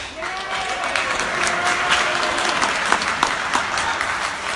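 A large audience cheers and applauds steadily throughout, a dense wash of clapping with scattered whoops and voices in the crowd.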